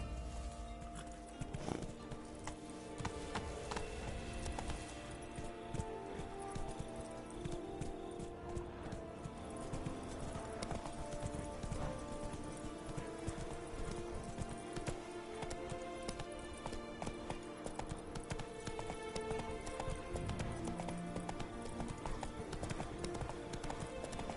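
Rapid clip-clop of the horse Roach galloping through the Witcher 3 game world, steady hoofbeats running continuously under music with brief voices over it.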